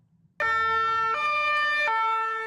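Ambulance siren sounding in a small Bavarian town after an explosion, starting abruptly and wailing in loud two-tone alternation close by.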